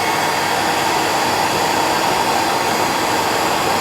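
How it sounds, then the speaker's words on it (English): Hair dryer blowing on a detached foam body caddis fly, a loud steady rushing whoosh held constant throughout with no pause, close up. "Give it a wee blow with the hairdryer just to let you see what it's like."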